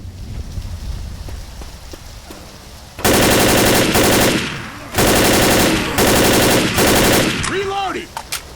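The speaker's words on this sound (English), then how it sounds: "Reloading!" Loud machine gun fire from the 2008 video game Left 4 Dead comes in three long bursts separated by short pauses, over quieter background noise. A brief voice is heard near the end.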